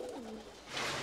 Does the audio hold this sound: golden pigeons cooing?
yes